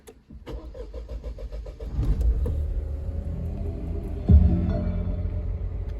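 A Dacia Jogger Extreme eco-G 100 car engine starts with a brief crank and catches into a steady low idle rumble, close and loud, with a small bump midway through.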